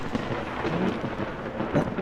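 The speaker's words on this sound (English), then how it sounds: "That thunder sounded very close." Thunder in the video game Vintage Story rolls on as a low, rumbling crackle that lasts the whole two seconds and sounds close, with a slight swell near the end. No voices are present.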